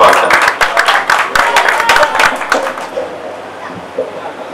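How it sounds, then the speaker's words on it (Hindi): Loud, dense applause from a poetry gathering audience greets poet Salim Chauhan, a steady burst of many hands clapping that fades out over the final second or two. "आइए जनाब सलीम चौहान साहब का भरपूर तालियों से इस्तकबाल करें"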